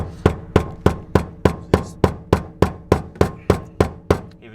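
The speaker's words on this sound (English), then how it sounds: "Even use a rubber mallet." A rubber mallet strikes a Honda Integra DC5 Type R fuel tank part twelve times in a steady, even rhythm, each blow a loud, close, dull thud with a quick decay.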